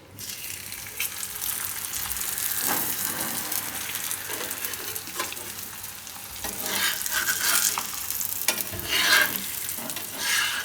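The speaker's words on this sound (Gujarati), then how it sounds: "તો આને આપણે શેકી લેવું." A soya chunk paratha roasts on a hot pan with a steady, fairly loud sizzle and frying hiss, broken by occasional scraping and shifting sounds, close up and with no talking.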